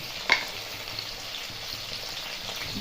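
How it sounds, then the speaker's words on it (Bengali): Long-sliced potatoes frying in a pan, an even crackling sizzle heard up close with one brief sharp clink near the start. "আলুগুলো প্রথমে ভেজে নেব"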